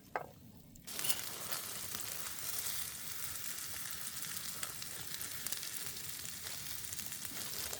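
Garlic sizzles and fries steadily in a pan for paella, a close, continuous crackling hiss that starts after a brief quiet moment and holds even throughout.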